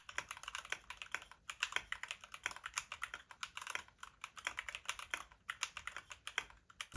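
Rapid, steady typing on a mechanical keyboard, close up, with crisp clacky keystrokes in a continuous rhythm and no voices.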